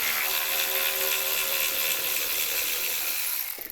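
A power tool whirs continuously at high pitch while taking a bolt out of the side step on a new Land Rover Defender L663, close and loud, winding down at the end.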